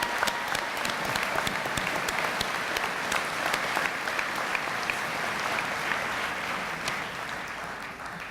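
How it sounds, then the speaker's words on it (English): At a spring commencement ceremony, the audience applauds the students with sustained, evenly dense clapping from a large crowd that carries on for several seconds and tapers slightly at the end. "Please congratulate me in applauding these students."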